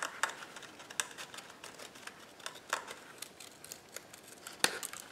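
Scissors snip through book pages in a series of crisp, irregular cuts, close and fairly quiet, with light rustling between snips.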